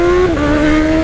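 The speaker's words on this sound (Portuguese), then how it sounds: "Troca de marcha sem embreagem" A Honda CB1000 motorcycle engine screaming at high revs as a quick shifter snaps up a gear without the clutch, the steady tone dipping abruptly mid-burst, loud and close with no talk.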